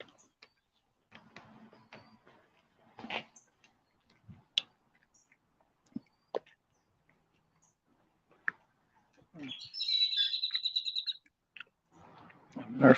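A blackbird calls outdoors on a gloomy morning in a string of short, sharp chirps and clicks, then a rapid burst of repeated notes, with quieter rustling and mouth sounds between.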